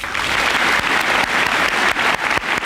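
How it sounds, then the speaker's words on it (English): Loud, continuous audience applause filling a senior class assembly hall, dense clapping that holds steady before tapering slightly near the end. "Please give her a round of applause for all her hard work and dedication."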